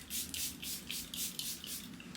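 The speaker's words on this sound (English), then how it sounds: "I'm gonna spray again because that was another cream product." A handheld setting spray mists a face during makeup with a rhythmic series of about eight short, breathy spritzes, close and evenly spaced, with no talking.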